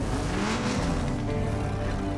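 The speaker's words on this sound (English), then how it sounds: "Other ads such as Birth, which plays off the revving of a car" A car engine revving in an advert, a steady loud mechanical roar with rising and falling harmonics throughout, heard alone with no voices.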